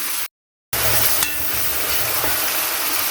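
Chopped onion frying in melted ghee or oil in a pot, a loud, steady close sizzle with stirring scrapes, briefly cut off near the start.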